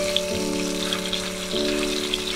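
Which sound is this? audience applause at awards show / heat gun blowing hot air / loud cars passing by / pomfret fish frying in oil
pomfret fish frying in oil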